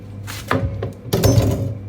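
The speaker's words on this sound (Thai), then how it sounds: "เรามาต่อหั่นกระหล่ำกันสักนิดนึงนะคะเนาะ" A knife shreds cabbage rapidly against a cutting board in two bursts of brisk strokes, close and fairly loud, with a short pause between them.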